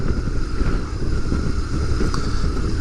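Wind rushes past a motorcycle helmet with the visor closed while riding at 50 km/h, a steady, loud, low-pitched roar and buffeting that fills the clip without a break.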